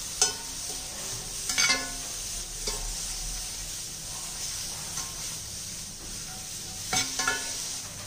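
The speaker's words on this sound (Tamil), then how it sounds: "அடுத்து வந்து நம்ம பிரண்டை போடுறோம் இப்போ இதையும் நல்லா வதக்கிடணும்" Pirandai, the adamant creeper, sautéing in a pan with a steady soft sizzle, broken by a few sharper scrapes and stirring knocks near the start, middle and end.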